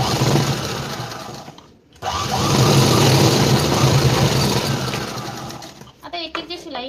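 Sewing machine stitching fabric lining pieces for a garment, running in a loud, steady mechanical whir that stops briefly, resumes, then breaks into short uneven bursts near the end.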